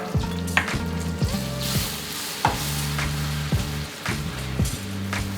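A butter and all-purpose flour roux bubbles and sizzles in a pan on medium heat, with a continuous fry punctuated by repeated sharp scraping stirs at a fairly regular rhythm; no talking.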